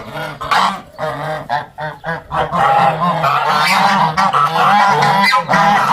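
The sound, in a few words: turkeys calling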